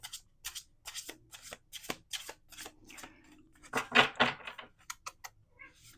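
A deck of playing cards being shuffled indoors, several quick riffling bursts with short pauses between them, close and moderately loud, ending in a final flurry of crisp card snaps.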